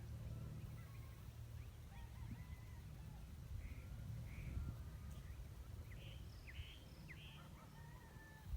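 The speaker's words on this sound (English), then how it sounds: "There's definitely a rooster crowing, but aside from that, so many great birds and pleasant noises around here" A rooster crows in the distance amid chirps and calls from several other birds over a quiet outdoor background.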